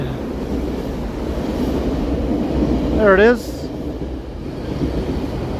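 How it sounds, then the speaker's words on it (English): A GO commuter train rumbles across an overhead track on a Toronto street, a steady broad roar swelling briefly as it passes, while a person talks over it. "hear a train passing overhead."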